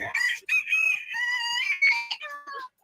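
A rooster crows in one long, loud, close call that rises and then trails off, with no talk over it.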